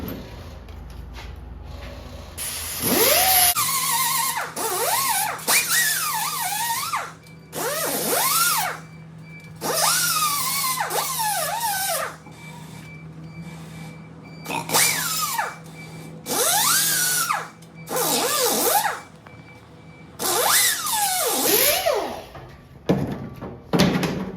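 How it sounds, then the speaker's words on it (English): A power tool deburrs a cut-out metal patch panel piece in repeated whining bursts that rise and fall over a steady hum, each pass separated by short pauses, close and fairly loud. "Now we're gonna take the piece that we cut out and actually deburr this"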